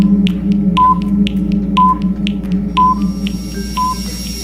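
A quiz countdown timer ticks in a steady one-per-second rhythm, with a short higher beep roughly each second over a low constant hum, with no talking.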